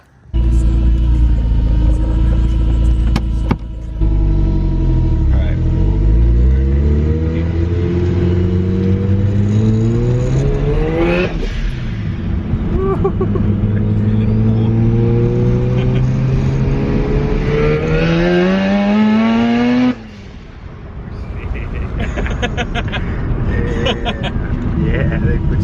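A Mazda RX-7 sports car engine roars close by, revving up through several gears with rising pitch and a drop at each shift, then easing off.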